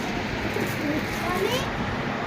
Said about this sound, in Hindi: तो गाइस ये देखो अभी हमारे इतने कबूतर बाहर हैं